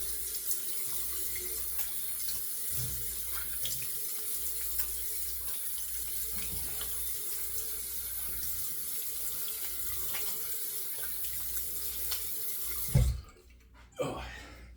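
Tap water runs steadily from a faucet into a sink to rinse the head of a Razorock DOC open comb safety razor, a continuous near splash that holds throughout and then stops abruptly near the end.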